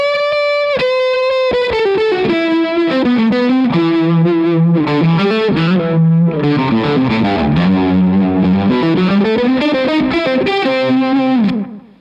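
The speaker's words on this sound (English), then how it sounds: "both fuzzes sound great with a Retrovibe in front. So this is the Stonk Box," An electric guitar runs through a Retrovibe into a Stonk Box fuzz, playing a loud, continuous melodic line with bends and held notes. The tone is saturated and fuzzy with a swirling, wobbling modulation for about twelve seconds.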